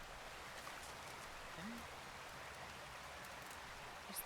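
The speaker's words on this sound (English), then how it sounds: "Really having some trouble with all this fucking rain." Steady rain falling, a continuous soft hiss of drops on surfaces that stays even for several seconds, faint and uninterrupted.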